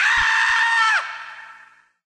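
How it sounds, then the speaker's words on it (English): A synthetic screaming effect from the MorphVOX Pro voice changer software, a single sustained, shrill, buzzy wail that dips in pitch and fades out over about a second. "Like, you can sound like someone screaming,"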